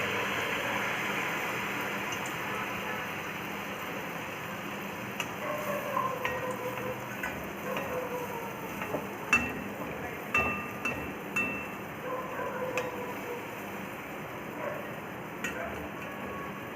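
Methi fritters (bond) deep frying in hot oil: a steady, faint sizzling hiss dotted with small crackles and pops through the whole stretch, a few louder pops midway.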